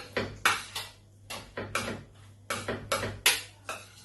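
A spatula mixes rice in a pan for an egg fry with king prawns, giving about a dozen faint, irregular metallic clinks and scrapes in quick bursts, alone without talk.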